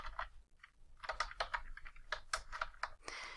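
Someone types a search on a computer keyboard, a quick run of separate keystrokes at close range with short pauses between bursts and no talk.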